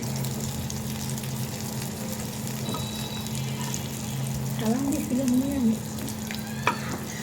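Small fish fritters with Malabar spinach leaves fry in hot oil, giving a steady, close sizzle that runs the whole time, with a few faint higher chirps and clicks over it.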